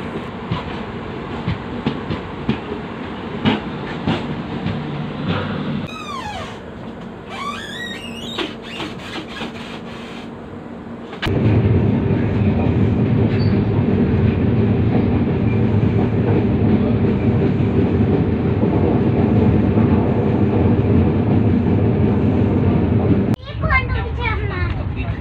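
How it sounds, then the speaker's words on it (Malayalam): A train rumbles past while the Sampark Kranti Express sits stopped near Munroe Island, Kerala: quieter carriage noise and brief squeals for ten seconds, then a sudden loud, steady roar and clatter of passing cars that cuts off near the end. "ഈ ഒരു ട്രെയിൻ പാസ് ചെയ്യാൻ വേണ്ടിയിട്ടാണ് ഇത്രയും ഒരു അരമണിക്കൂറായിട്ട് ഇവിടെ നിർത്തിയിട്ടേക്കുന്നത്"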